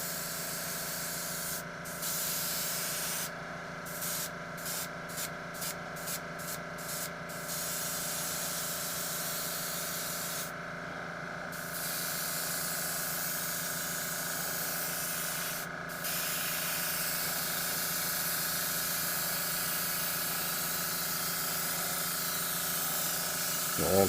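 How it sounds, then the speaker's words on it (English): Air compressor at a gas station runs steadily in a parking lot, a continuous loud hiss and hum throughout with brief breaks in the high hiss, holding level to the end. "Mr. Compressor's coming on."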